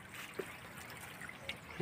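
Water trickles steadily into a bucket outdoors, a soft continuous dribbling stream with a few faint splashes, quiet and close with no talk.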